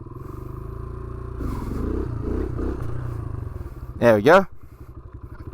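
A motorcycle idling and revving on pavement during wheelie practice, the engine rumbling steadily before two sharp high revs, then settling back to idle; someone speaks briefly.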